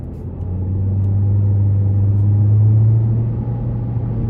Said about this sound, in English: But I'm gonna put it in the sport mode one more time to get on the interstate.